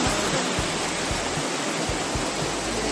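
Water flowing over a flight of steps with a dense, steady rushing roar, close and loud, with soft low thuds underneath.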